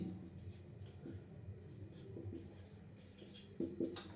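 A pen writes a batch name in quiet, soft, scratchy strokes that come in short repeated bursts over a low background rumble, with a slightly louder scrape near the end.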